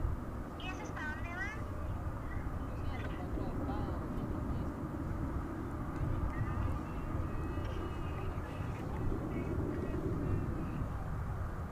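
An airliner taxiing at DFW Airport toward the crossover on the way to Terminal E, a steady low engine rumble and whine held throughout at moderate distance, with faint chirps on top.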